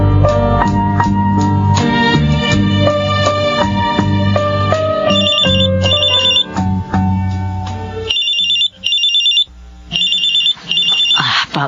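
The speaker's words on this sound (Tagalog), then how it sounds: "Papa ni Jerome itong tumatawag sa cellphone." A cellphone ringtone plays loud and close in a Tagalog radio drama, a bright repeating melodic tune that continues for several seconds, then breaks into choppy stop-start fragments.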